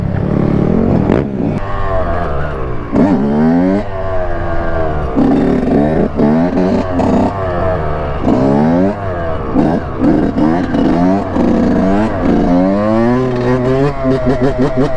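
A Honda dirt bike is ridden hard, its engine loud and close, revving up and down in repeated rising sweeps through the gears with barely a pause.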